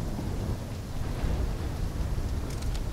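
Thunderstorm with rain in the video game Call of Duty Black Ops 3: a steady, dense roar of rainfall with deep rolling thunder underneath, continuous and fairly loud, with no voices.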